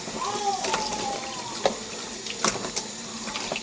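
Chicken wings washed under running tap water, a steady close splash with a few knocks and clatters in a sink; a faint voice sounds briefly early on.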